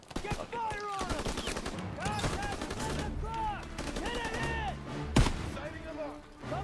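Gunfire in a World War II shooter game, with bursts of rapid shots, a loud crack near the five-second mark and whistling tones, all under a busy in-game mix.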